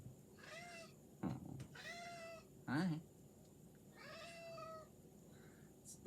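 A pet cat meows several times at close range, the drawn-out calls spaced a second or so apart in a quiet room, while a person speaks briefly.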